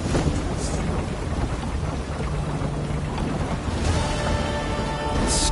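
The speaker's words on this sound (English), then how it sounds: "Storm, damn it." Steady rain pours throughout a Witcher 3 thunderstorm, with low thunder rumbling beneath it and brighter splashing swells near the end, continuous and fairly close with no voices.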